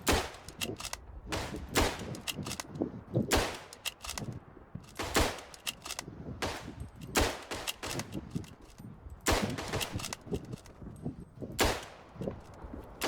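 Loud, irregular rifle shots crack from World War One trench combat in the game Verdun during a wave defence, single and overlapping reports spaced a second or two apart with echoing tails.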